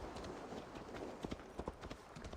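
Horse hooves clip-clopping in Assassin's Creed Valhalla, a quick rhythmic run of hoof strikes over a dense game backdrop, fairly close and steady.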